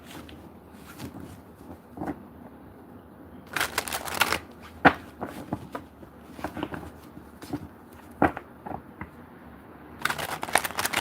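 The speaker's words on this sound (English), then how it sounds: "the spirit is telling me to shuffle for as long as I need to" Stiff, large cards being shuffled in repeated riffling bursts, with soft handling rustles and taps between the louder flurries.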